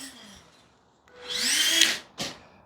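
An Apex 1/12 scale 4WD RC crawler's electric motor whines up during a short drag run, rising to a loud buzzing surge for about a second, then a brief second burst, with a faint voice briefly audible at the start.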